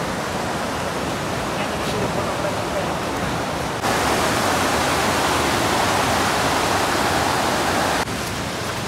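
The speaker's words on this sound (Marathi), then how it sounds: "आणि इकडे बघा फॉल्स" A powerful waterfall in a wildlife sanctuary sends up a heavy, steady roar of crashing water that stays loud throughout, swelling a little louder midway before easing back near the end.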